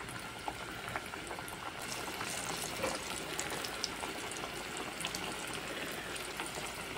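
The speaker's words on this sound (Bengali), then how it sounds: "একটা একটা করে কলা আবার আমি তেলের মধ্যে ছেড়ে দিচ্ছি।" Green banana pieces sizzle and bubble in hot oil as they deep-fry for a snack, a dense steady crackling hiss that rises slightly as more pieces go in, close and even.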